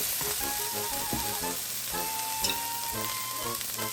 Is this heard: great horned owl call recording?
no